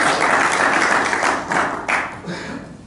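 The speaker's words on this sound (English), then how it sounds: "give yourselves a big round of applause" A crowd applauds, dense clapping that holds steady and then thins and fades toward the end, with a faint voice underneath.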